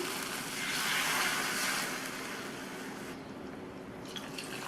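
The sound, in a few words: pouring water into cooking pan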